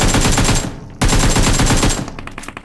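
An AKM rifle fires in PUBG, played on an iPhone XR: two loud, rapid full-auto bursts close up, the first cut off briefly before the second, ending in a few scattered echoing shots.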